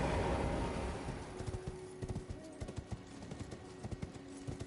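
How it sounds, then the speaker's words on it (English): Horse hooves in a video game clip-clop in a steady, faint rhythm after a brief swell of noise, with no talking over them. "Let's get our horse out."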